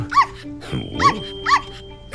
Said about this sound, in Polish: Pozwól najpierw, że przedstawię ci moje małe pieski.